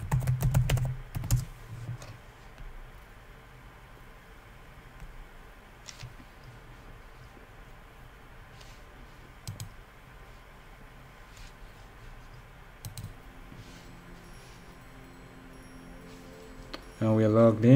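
A password is typed on a computer keyboard in sparse, quiet key taps spread across a faint background hum, with a voice speaking briefly at the start and end.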